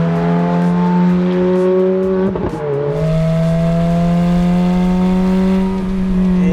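Ferrari F430 sports car engine revving loudly and steadily up close, a brief throttle blip in the middle dropping the pitch before it climbs again into a sustained high-revving drone.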